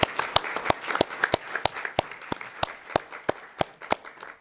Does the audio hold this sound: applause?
yes